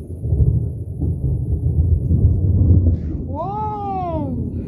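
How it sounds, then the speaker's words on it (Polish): Deep, heavy thunder rolls steadily through a storm over a village, a loud continuous rumble lasting the whole stretch, with a brief high rising-and-falling wail toward the end. "Dobrze grzmi."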